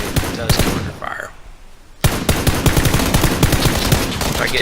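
Rapid bursts of gunfire in the PUBG video game on Xbox, loud close fusillades with a brief lull before firing resumes in dense repeated shots.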